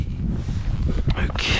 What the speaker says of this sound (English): It's the bloody wind as well.